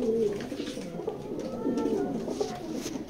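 A pair of grizzle racing pigeons coo nearby in soft, throaty, rolling bursts that repeat across a few seconds. The calls are clear and close against quiet surroundings.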